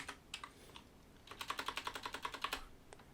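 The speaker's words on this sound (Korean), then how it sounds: "엔터 키를 누르면" Computer keyboard keys pressed, with a couple of isolated taps followed by a quick, even run of about a dozen soft, close clicks in a quiet room.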